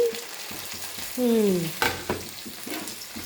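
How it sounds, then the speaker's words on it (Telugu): Tomatoes cook in a pan with onions, garlic and curry leaves, a soft steady fry with scraping stir strokes and a brief louder burst midway, close and alone with no talk. "బాగా మగ్గనిచ్చిన తర్వాత టమాటా వేస్తున్నాను"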